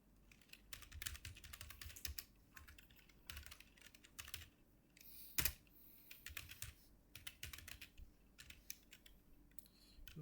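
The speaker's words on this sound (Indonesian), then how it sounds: "Lalu sampai gagal ngetik dari awal nih tadi." Someone types steadily on a computer keyboard, a quiet, close run of rapid key clicks in uneven bursts with one sharper, louder tap partway through.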